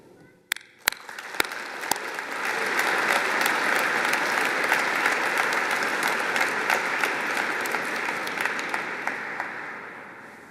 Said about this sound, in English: fill this great cathedral with noise as you applaud your family and friends